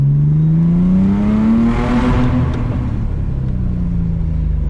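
A 450 hp Audi S4 prepared to RS4 spec with a full stainless exhaust drives under a bridge. The engine drones loud and close, its pitch rising steadily, then easing back into a steady rumble, with no talk.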